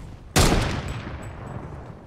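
A single loud, close gunshot blast in a first-person shooter video game, sharp onset followed by a long decaying tail, standing alone without talk.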